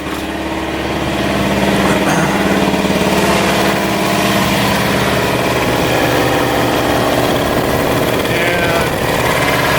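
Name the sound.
Campbell Hausfeld air compressor with replacement pump running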